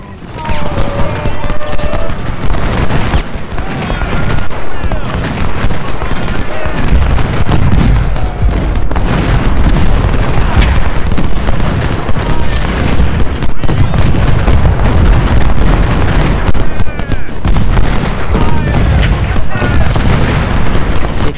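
Counter-battery artillery fire in a Civil War strategy game at the Battle of Prairie Grove, a dense, continuous barrage of booming cannon shots and rattling volleys with a faint voice occasionally under the din.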